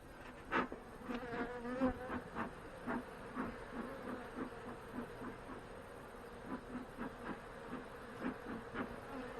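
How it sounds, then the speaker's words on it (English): Honey bees buzz inside a hive during a spring colony check, a dense, steady drone close to the ear with individual bees flying past in repeated louder swells. "there's a lot of bees in here"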